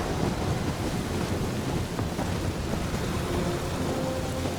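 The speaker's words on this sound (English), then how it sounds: "That is some really crazy lightning out there!" Dense steady roar of a thunderstorm with lightning in the Guardians of the Galaxy video game, heavy rain and rumbling thunder filling the scene at an even loud level, with no voices.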